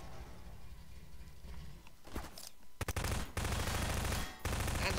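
Rapid bursts of automatic gunfire in the Half-Life 2 video game, a dense rattling volley that breaks off briefly and resumes loud and sustained, with no speech.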